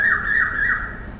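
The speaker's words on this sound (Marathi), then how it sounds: "कोकिळा ओरडते" An Asian koel calls outdoors beside a house, a loud, clear whistled note that swoops upward and repeats in a steady rhythm, heard alone with no talking.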